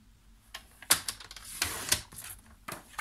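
Paper being cut for a scrapbook album, a handful of quiet, crisp snipping and rustling sounds at irregular intervals, close and faint, with no talking.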